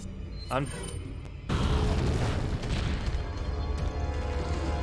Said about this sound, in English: Mine launcher was not a great idea, I bet.